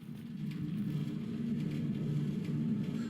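A minecart collector in Minecraft gives off a continuous low rumbling drone, steady and even throughout, with faint higher clatter above it.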